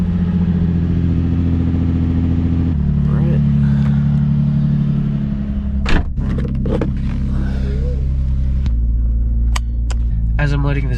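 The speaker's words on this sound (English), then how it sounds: "As I'm letting the Z warm up" A stock Nissan 350Z with manual transmission idles steadily while warming up, a loud, even low engine rumble close by with a few sharp clicks and knocks over it.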